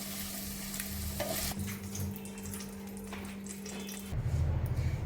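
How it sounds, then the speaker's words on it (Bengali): Whole garam masala and peppercorns sizzle steadily in white oil in a pan for a vegetarian milk paneer dish, a close, continuous crackle that swells louder near the end, with no talking. "প্যানেতে সাদা তেলের উপরে এবার দিয়ে দিচ্ছি গোটা গরম মশলা আর গোলমরিচ"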